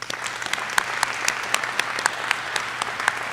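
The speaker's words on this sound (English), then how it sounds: "So I'd like to do one more great big round of applause for you." Applause from an audience at a military retirement ceremony for a command sergeant major, steady dense clapping filling the whole stretch at moderate loudness, with no talk over it.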